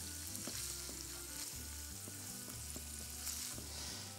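Onions fry in hot oil with a constant close sizzle, while the pan is knocked and stirred at an irregular pace.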